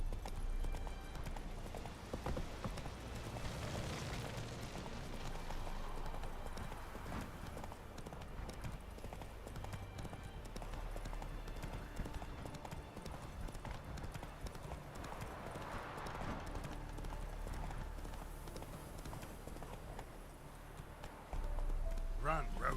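Roach, a horse in The Witcher 3, gallops with steady clip-clop hoofbeats in a game scene, a faint whinny possible, under occasional talk and game ambience.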